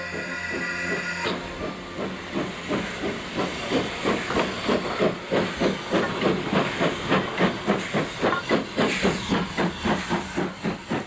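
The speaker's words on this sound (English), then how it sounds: "A train leaves Groombridge on its way to Tunbridge Wells West" A steam locomotive pulls away from Groombridge station, starting with a loud hiss of steam and then a chuffing exhaust that quickens into a steady rhythm, close and loud.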